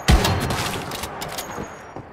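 Rifle fire in the survival shooter Once Human, a sharp close shot followed by a quick string of lighter cracks and echoing tails over about two seconds.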